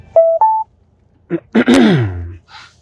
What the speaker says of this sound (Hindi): अब एक फोन आ रहा है, एक फोन ले लेते हैं किसी भगत भाई का।